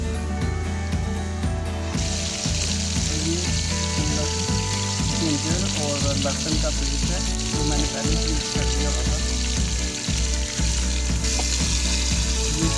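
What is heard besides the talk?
beef frying with ginger garlic paste in a cooker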